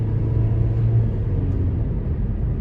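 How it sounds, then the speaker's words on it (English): A 2024 Nissan Versa SR on a road test drive gives a steady, close low engine and road rumble with a faint hum, continuous throughout with no talking. "starting the test drive in this 24 Versa SR"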